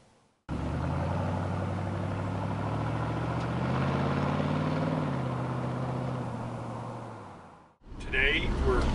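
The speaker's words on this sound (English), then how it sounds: "Today we're driving around in a very nice Survivor 79 Chevy Silverado Scottsdale truck." A 1979 Chevy Silverado Scottsdale survivor truck on the move, its engine a steady, close drone that rises slightly and then eases off before cutting out near the end.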